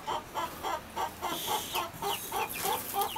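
Chickens clucking at a coop, a rapid run of soft repeated clucks in an even rhythm, fairly faint and close, with no talking.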